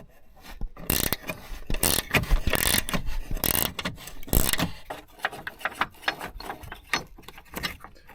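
Tool and metal sounds come from work removing the two T50 bolts on the front bumper of a BMW E46. Rattling, scraping and clicking noises arrive in irregular close bursts, with short pauses between them.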